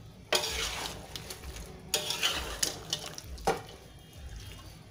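Chicken caldereta with bell pepper gets stirred in a pan, three distinct bursts of scraping and sizzling about a second and a half apart, each trailing into clinks of the utensil against the pan, close and clear with no talking.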